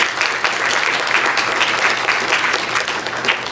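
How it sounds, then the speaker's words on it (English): Audience applause at a career pathways event on law, justice and hospitality, a dense, fairly loud crowd clapping continuously and evenly throughout, with no voices over it. "Let's give a round of applause."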